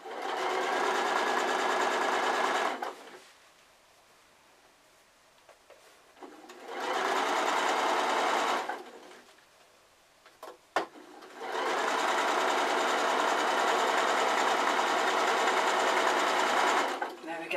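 Sewing machine top stitching through layered fabric on a pocketed iPad case, running in three sustained loud bursts separated by quiet pauses.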